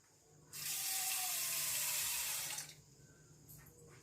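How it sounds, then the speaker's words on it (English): Water pours into a pressure cooker holding chickpeas, a steady bright splashing stream lasting about two seconds that starts and stops abruptly, followed by faint clinks. "now I'll add the water required into the cooker"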